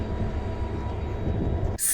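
Train at Sfax station in Tunisia, a steady low rumble and hum of rolling stock filling the platform, ending abruptly in a brief burst of broadband noise.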